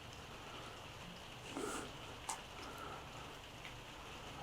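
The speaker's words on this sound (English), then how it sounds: "It's raining on my roof if you can hear the pitter patterns." Rain patters softly and steadily on a roof as a faint, even hiss, with a few small knocks and clunks from nearby household activity.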